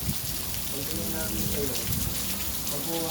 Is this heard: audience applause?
no